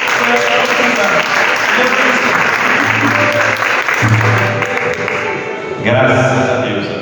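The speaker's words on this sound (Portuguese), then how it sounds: "Aplauda ao Senhor Jesus." A church congregation claps during a morning service, continuous applause mixed with music and some voices, loud throughout with a brief dip before picking up again.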